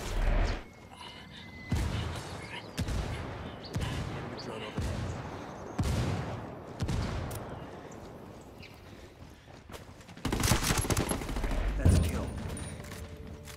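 Gunfire in the video game Ghost Recon, with repeated sharp bursts and volleys spaced across the stretch, a heavier cluster of shots toward the end. Players' voices come and go underneath.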